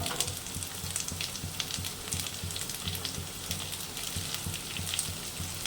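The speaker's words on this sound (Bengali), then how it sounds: "ভাজা ভাজা হয়ে গেছে এবার পেঁয়াজটা দিয়ে দিচ্ছি" Onions hiss and crackle in hot oil in a wok, a dense continuous sizzle broken by soft rhythmic scraping as they are stirred, heard up close without speech.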